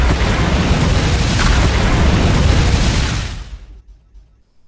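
A bomb goes off in the president's office, a loud, dense, roaring explosion blast that rumbles for over three seconds before cutting off into near silence, followed by a few faint settling sounds.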